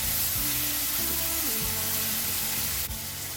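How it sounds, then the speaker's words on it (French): Onions and chopped tomato frying in oil in a pan, giving a steady, loud, close sizzle that holds evenly throughout with no voices. "J'ai rajouté un peu d'huile dans la poêle. Ensuite, je rajoute mes oignons, de la tomate que j'ai découpée."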